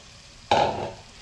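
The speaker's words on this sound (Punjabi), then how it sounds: "ਹੁਣ ਵਾਰੀ ਆ ਗਈ ਦੇ ਵਿੱਚ ਮੇਨ ਮਟਰ ਪਾਣ ਦੀ ਹਰੇ ਮਟਰ" Green peas dropped into hot tadka oil in a pan for matar paneer, giving a sudden loud sizzle that fades quickly to a softer crackle.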